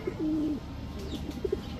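Low, soft cooing from a large pair of pigeons, one drawn-out coo followed by short breathy notes, close by over a faint background hum.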